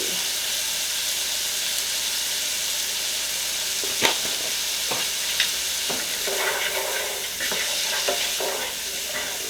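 Onions frying in a pan with seasoning send up a constant close hiss and sizzle, with a few sharp utensil knocks and some stirring in the middle, and no one speaking.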